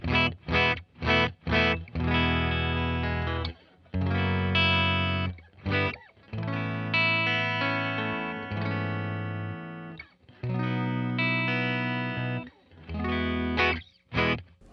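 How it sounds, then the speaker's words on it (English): Clean electric guitar played through an amp, miked off-axis with an SM57 at the speaker cone, picked with a medium pick: a run of strummed chords and single notes with short pauses between phrases. "here is the clean sound."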